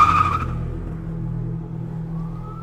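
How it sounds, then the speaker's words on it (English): A car speeds away, its engine revving hard at first with a brief tire squeal, then settling into a steady, fading motor drone. "He jumped in his car and sped off."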